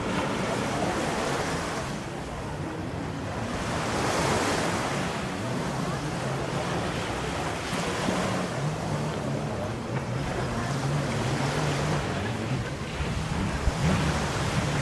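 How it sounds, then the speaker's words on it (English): Waves roll onto a sunny beach on Koh Larn Island near Pattaya, Thailand, in a loud continuous wash of surf with rising and falling swells and wind buffeting the microphone. "the beach. I'm on the sand again."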